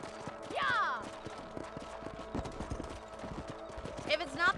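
Horse hooves clip-clop at a steady walking rhythm in the Western video game Red Dead Redemption, moderately loud, with a horse snorting or whinnying briefly at the start and end.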